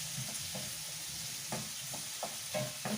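Potatoes fry in a pan with a soft, continuous sizzle, punctuated by a few faint scrapes and taps of stirring.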